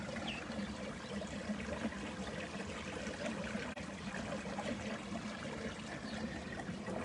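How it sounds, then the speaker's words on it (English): Water flows steadily in a stream, a continuous even rush and trickle with no pauses, moderately close and not drowned out by other sounds. "The sound of water is always beautiful,"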